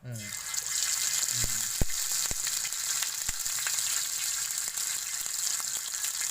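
Fish pieces are dropped into hot oil filled halfway up the pan and fry with a loud, steady hiss close by. A few sharp clicks and knocks break through the sizzle.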